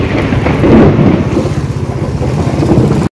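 Thunder rumbles through a heavy lightning storm with pouring rain, a loud, continuous roar close to the microphone, blended with wind buffeting and no talk.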